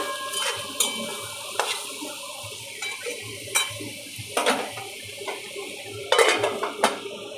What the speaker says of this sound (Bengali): তো আমার সবজিগুলো ভাজা হয়ে এসেছে।